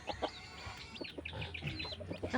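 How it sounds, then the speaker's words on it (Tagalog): A mother hen clucks in short repeated bursts close by while newly hatched chicks peep and chirp around her during feeding, no talk. "Inahing manok na madamot."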